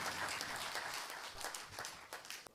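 Sustained applause from a crowd, dense and steady throughout, tapering slightly toward the end with a few sharper claps.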